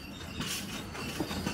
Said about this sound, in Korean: 기차는 여정의 중간쯤 잠시 정차한다